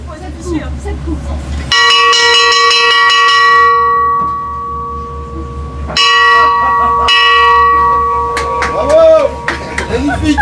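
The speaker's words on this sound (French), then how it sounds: "Attention, on va sonner la cloche, bouchez vos oreilles." A loud church bell aboard the tall ship Belem strikes in a steady series of resonant, ringing tones that sustain and overlap, with a pause mid-sequence, while people talk and cheer near the end.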